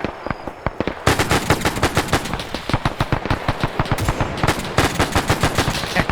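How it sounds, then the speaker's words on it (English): An anti-aircraft gun fires in a fast, relentless rhythm of loud, sharp reports, the bursts running together almost continuously for several seconds and filling the space with no pauses or voices. "It's the AA gun now firing at him."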